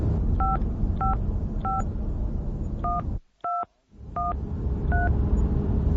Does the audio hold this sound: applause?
no